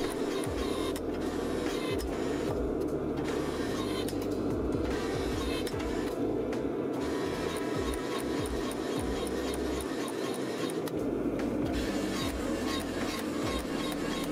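A homemade hydraulic forging press built from a 7.5-ton log splitter draws out a forge-welded Damascus steel billet into a flat bar, giving a steady loud mechanical drone with grinding, rasping texture throughout and no speech.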